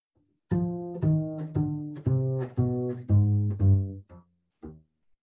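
A minor two-five-one progression in harmonic minor is played as sustained piano chords one after another, each struck clearly with a rich low bass, ending with a couple of soft single notes.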